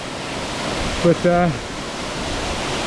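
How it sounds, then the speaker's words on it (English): A waterfall on Koh Chang produces a steady, dense roar of rushing water throughout, close and constant, with a short spoken word breaking over it briefly in the middle. "this waterfall is quite refreshing"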